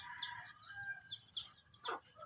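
Chickens clucking and calling softly at a distance, a few short bursts and one rising squawk near the end, over quiet outdoor background.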